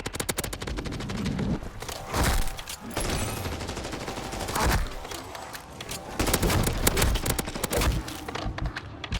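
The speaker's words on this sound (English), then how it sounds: "let's see how a full auto M14 will deal when you're surrounded by the undead" Full-auto M14 battle rifle fire in Modern Warfare Zombies, sustained loud bursts of rapid gunfire with heavy thumping impacts, separated by brief pauses and continuing through the whole stretch.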